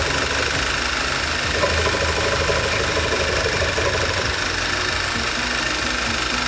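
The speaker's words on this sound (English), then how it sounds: "That the engine almost wants to stall." A turbocharged Volkswagen Tiguan engine idles roughly after a cold start, close to stalling, with a loud, steady but uneven rumble and knock heard up close with no talking.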